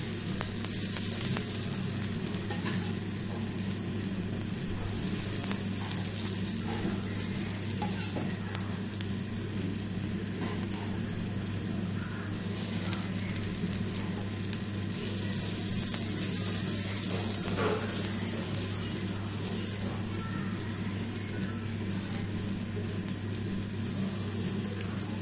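A garlic dosa cooks on a hot griddle, giving a continuous soft hissing sizzle with occasional scraping of a spatula, steady and close with no talk, over a low background hum.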